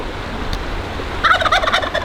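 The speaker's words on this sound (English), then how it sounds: "Hey, little turkey! I didn't know turkeys are so big." A wild turkey gobbles in a quick burst of rattling calls near a canyon trail, loud and close over light wind noise.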